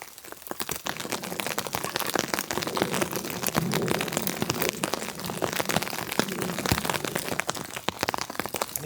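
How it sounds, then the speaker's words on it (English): Rain pattering on a tarp shelter during an April snowstorm, a dense stream of sharp little taps and crackles that builds and holds steady, close and fairly loud, with no voices. "It's starting to rain again."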